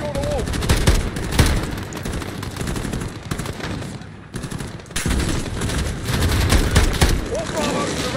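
Dense gunfire from a Call of Duty: Modern Warfare campaign firefight at a compound residence, with automatic bursts and single shots rattling continuously and loudly, and radio voices speaking over the shooting.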